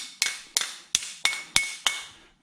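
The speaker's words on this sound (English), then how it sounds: "Then you take a flat dolly hammer and you go around tapping it." Flat dolly hammer tapping around a steel exhaust pipe to reshape it, six sharp metallic strikes at an even, unhurried pace, each ringing briefly, close and clear with no talk.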